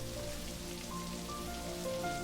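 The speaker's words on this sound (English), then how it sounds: "First, a soft drizzle, but then quickly a torrent as you are drenched." Heavy rain falling across a heath as an audio drama effect, a steady, even patter and hiss of rain at moderate volume with no break, and no voices.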